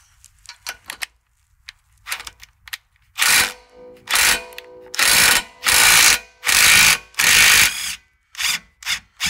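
Ratchet with a 15mm socket loosening the bolts on the old shocks of a 2019+ Ford Ranger; a few faint clicks, then a series of loud, rasping ratchet bursts in steady rhythm, close up and alone.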